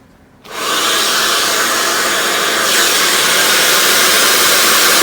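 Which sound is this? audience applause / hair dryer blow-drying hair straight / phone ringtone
hair dryer blow-drying hair straight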